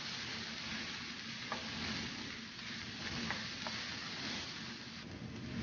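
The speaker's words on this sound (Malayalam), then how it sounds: "നന്നായിട്ട് നമുക്കൊന്ന് വഴറ്റിയെടുക്കാം" Onions sauté in a hot pan with oil, a steady soft sizzle and crackle with a few faint clicks of stirring, quiet and close, with no talking.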